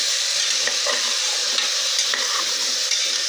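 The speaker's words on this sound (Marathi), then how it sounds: "छान गाजर परतून घ्या।" Carrots for gajar halwa are sauteed in ghee, a dense, continuous bright sizzle heard up close with light stirring scrapes, and no voices.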